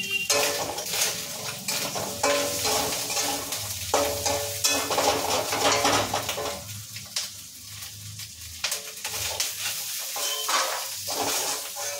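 Fish heads fry in oil in a pan, a continuous loud sizzle broken by repeated clinks and scrapes of a metal utensil against the pan throughout, with no talking.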